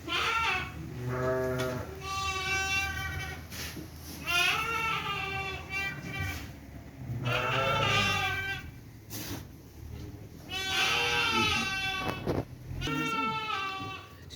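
Sheep bleat repeatedly and close by while feeding, with several loud, wavering calls spread throughout and people talking in between.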